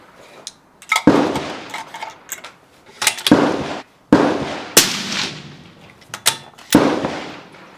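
A scoped rifle fires at a paper target on a range. Several loud, sharp reports sound at irregular intervals, each with a booming tail, and fainter pops come between them.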